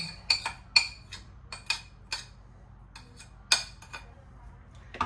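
Light clinks and taps of a spoon against a bowl, mixing sugar and egg yolks, irregular and close, scattered across a quiet background with no talking.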